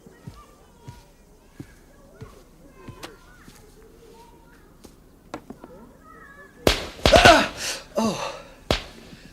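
Sharp pops and cracks of firecrackers on the Fourth of July go off in the distance at irregular intervals, then a louder cluster of bangs and crackles bursts out near the end.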